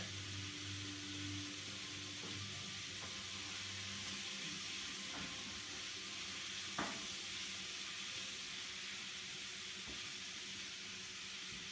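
Tikka masala simmering and cooking down in a pan gives a steady close sizzle and hiss, with a few light clinks of a utensil scattered through it and no talking.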